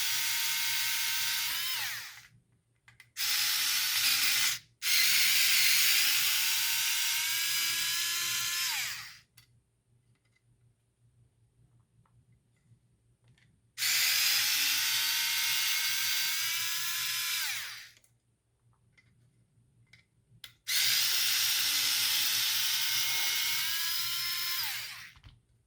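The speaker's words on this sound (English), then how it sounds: "we'll go ahead and take these 4 screws off for the front of the roll cage" A small power screwdriver whines in long, steady bursts while removing four screws from the front of an FMS Atlas RC truck's roll cage, with brief pauses and quiet gaps between runs and no talking.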